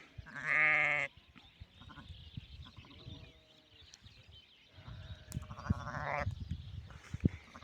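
A skittish first-time ewe gives a loud, short bleat, then quieter shuffling, and a second, longer bleat follows a few seconds later.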